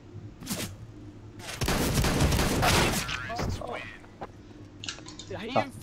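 Gunfire in Counter-Strike: Global Offensive, a dense burst of rapid shots lasting over a second, then scattered single shots, with voices talking over the game.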